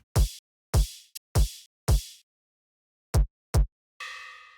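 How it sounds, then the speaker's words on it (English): A synthesized kick drum built from a distorted sine wave, with a crunchy, noisy high-passed transient, thumps six times in an uneven pattern. Each hit is loud, deep and punchy with a quick decay, followed by a short tonal synth swell at the end. "So for the kick, I wanted to use faceplant to create a kick from scratch."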